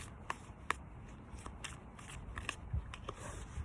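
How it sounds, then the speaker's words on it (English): Tarot cards being shuffled by hand, a quiet series of soft papery snaps and riffling crackles scattered irregularly over a few seconds, close up with no talking. "Right, now I'm shuffling the cards."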